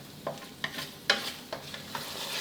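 Satay mixture being stir-fried in coconut cream for pork satay, a quiet sizzle broken by several distinct scraping strokes of the spatula against the pan, no one speaking.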